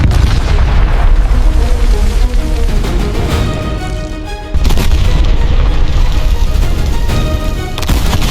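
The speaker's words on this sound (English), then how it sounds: "Factories explode, ports engulfed in raging fire." Factories explode amid raging fire in a continuous, very loud booming roar of deep rumbling blasts, with a brief dip partway through before the din swells again.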